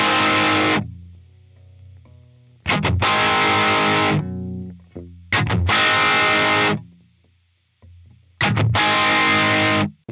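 Electric guitar through an Origin Effects Halcyon Green overdrive pedal rings out in four separate distorted chord bursts, each sustained a second or two before cutting off, with gaps of near silence between.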